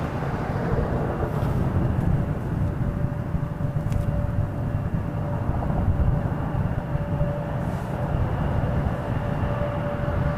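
An Embraer 170 airliner departs Toronto airport for LaGuardia in freezing weather, a steady broad roar heard from a distance for the whole stretch, with a faint tonal whine riding over the rumble.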